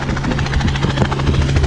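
A helicopter's rotor and engine roar steadily and loudly at close range. The rhythmic blade chop stays continuous throughout, with no voices.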